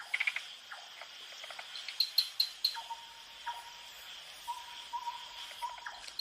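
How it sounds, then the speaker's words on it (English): An owl calls at night in the wild, giving repeated short hoots over a constant background of cricket and insect chirping with occasional frog-like notes, fairly faint and distant. "A night owl,"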